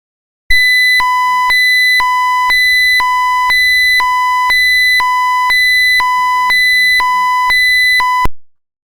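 SCADA alarm on a water distribution tank sounding when the tank fills, a steady repeating electronic beep pulsing in regular on-off bursts, loud and clear with no talking.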